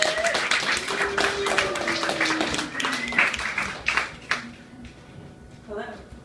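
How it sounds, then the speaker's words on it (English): Audience applause and clapping at a live comedy show as a comedian is welcomed to the stage, a sustained wash of claps with a host's voice over it, thinning out toward the end. "Give her a round of applause, guys."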